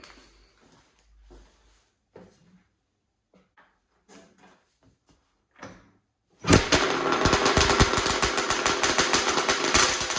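A Yamaha Banshee supermoto two-stroke engine fitted with Lectron carburetors, running without its fuel tank, fires up after some quiet clicks and handling noises, then idles loudly and roughly with a dense, continuous rattle.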